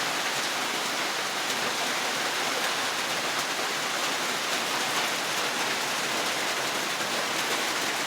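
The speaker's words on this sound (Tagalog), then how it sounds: "Ang maulan na umaga po dito sa amin" Rain falling on a wet morning, a dense, continuous hiss of drops on surfaces at a steady, loud level from start to finish, with no voices.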